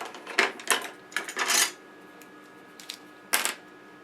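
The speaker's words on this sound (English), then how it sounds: "I'll just take my scissors and trim it down a little bit." Scissors snip a fabric stripe in a few sharp, close clicks, a quick burst of cuts followed by a pause and one last snip, faint against a quiet room.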